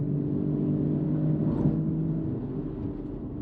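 A Porsche 981 Cayman S with PDK gearbox on the road, heard from inside the cabin as a steady low engine and road rumble with a slight swell mid-way, no talk.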